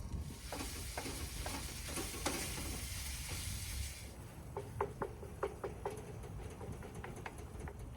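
Ground hamburger meat with a higher fat content sizzles steadily in a pan, a dense crackling hiss broken by scraping spatula strokes and clicks that grow more distinct in the second half.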